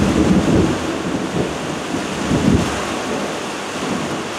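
Low rumbling thunder rolling through a steady rainstorm, with dense rain noise throughout and two swells of rumble, loud and continuous with no talk.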